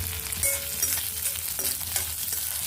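A tempering of mustard seeds, fenugreek, cumin, curry leaves and dried red chillies crackles in hot oil, a busy close sizzle with stirring over a low hum.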